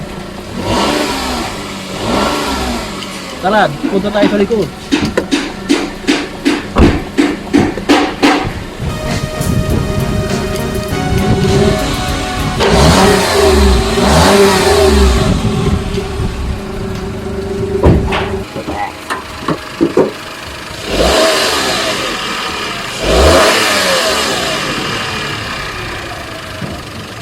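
A Toyota Wigo car engine revs up and down repeatedly, loud and close, with a person briefly talking over it.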